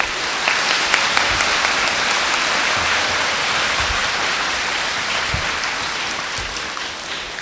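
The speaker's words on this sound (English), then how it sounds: "So if you could please give them a round of applause" Sustained round of applause from an audience at a school event honoring student STEM leaders, a thick, even roar of many hands with occasional low thumps, continuing steadily throughout.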